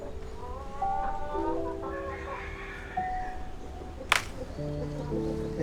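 Chickens and a rooster cluck and call steadily close by around chicken feed at a countryside home in the Philippines, with a sharp clatter near the middle and a low outdoor hum behind them.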